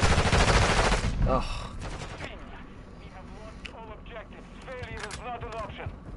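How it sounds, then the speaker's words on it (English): A loud burst of rapid gunfire in Call of Duty: Modern Warfare 2 opens, then fades to scattered distant shots and mechanical clicks, with a brief grunting voice. "I hear gunshots."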